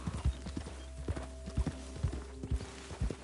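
A horse's hooves clip-clop at a steady walking rhythm in Red Dead Redemption 2, about a dozen soft thuds in quick pairs, quiet and close, with no talk over them.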